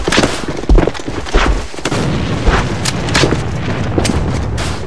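A grenade in the game AVA bursts with a loud, close boom, followed by further sharp blasts and gunfire-like cracks over a dense, noisy battle background.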